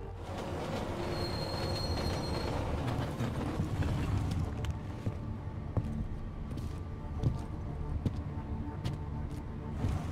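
Train cars rolling along rails during a cutscene in Deus Ex: Mankind Divided, a steady loud rumble with wheel squeal and occasional clicking joints throughout, no talk over it.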